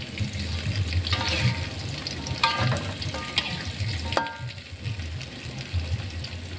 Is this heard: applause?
no